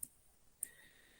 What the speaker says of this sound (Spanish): Entonces denle clic a 10 mejores.